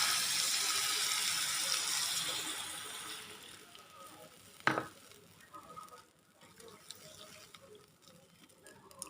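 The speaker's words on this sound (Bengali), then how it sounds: "এখন হলো আমি পানি দিয়ে দিব" Water poured into a pot of cooking fish curry makes a soft, steady rushing hiss for a few seconds that tapers away, followed by a single clink and faint bubbling in a quiet kitchen.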